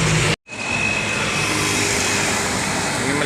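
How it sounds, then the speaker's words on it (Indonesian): Rapi intercity bus from Medan passing by on a road, a broad steady rush of engine and tire noise close by after a brief cut at the start. "Ini melintas bus dari Medan, bus Rapi ya"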